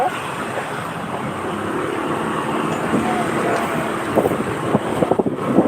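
Continuous roaring wind rush and engine rumble as if riding a motorcycle, steady and close, with a few bumps and rattles toward the end.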